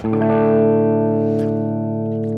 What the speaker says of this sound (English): this is like a crunch sound. This is soft and half volume.